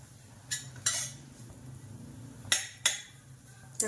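Dry fruits being lightly roasted in a pan are stirred with a metal spoon, giving a few sharp scraping clinks at irregular intervals over a quiet background, close and distinct with no talking.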